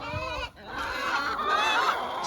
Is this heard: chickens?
yes